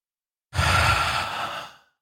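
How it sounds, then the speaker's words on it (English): A single deep breath in and out during a tapping exercise, a close, loud inhale that slides into a long, soft exhale and fades after about a second and a half, with no talking over it. "take a nice big deep breath"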